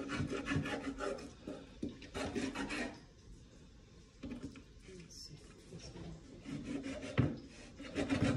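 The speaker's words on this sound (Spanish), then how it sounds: "Normalmente afila el cuchillo." A kitchen knife is sharpened with repeated scraping, rasping strokes in a steady rhythm, close and fairly loud, with a brief pause partway through before the strokes resume.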